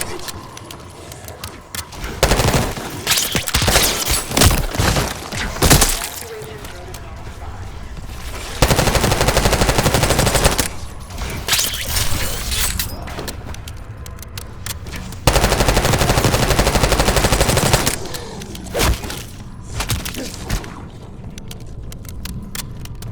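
Bursts of automatic gunfire and heavy shots in Black Ops 6 come in loud clustered volleys separated by quieter stretches, with thuds and clatter between them.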